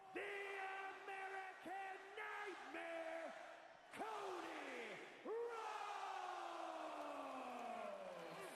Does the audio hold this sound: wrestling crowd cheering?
yes